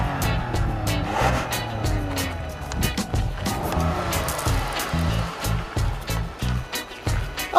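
A 2014 Toyota Sienna all-wheel drive minivan drives along, a moderate road and engine hum with rushing tire noise and rhythmic bumps, close and continuous throughout.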